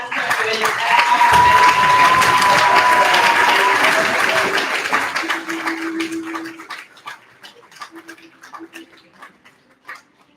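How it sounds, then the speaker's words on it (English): A crowd at a graduation ceremony claps loudly and steadily, the applause thinning out and fading into scattered claps over several seconds. "give a big round of applause for today's last graduate"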